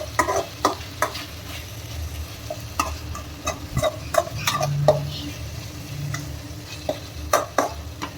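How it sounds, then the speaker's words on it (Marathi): Chicken sukka masala with tomato frying in a pan, a soft steady sizzle with scattered clicks and scrapes of stirring, fairly close and moderate in level, no talk. "आपण याला ना थोडंसं फ्राय करून स्टीम देऊन घेऊया"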